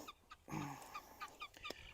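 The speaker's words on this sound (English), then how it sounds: "Guineas are going at it." Guinea fowl calling outdoors on a Texas homestead, a few faint, distant rhythmic squawks and chatters repeating over a quiet background.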